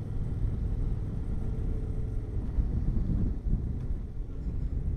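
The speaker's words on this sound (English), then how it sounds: "it's a bit windy though" Wind gusts across the docklands near a naval base and a moored cruise ship, buffeting the microphone with a low, steady rumble and fluttering, fairly quiet overall.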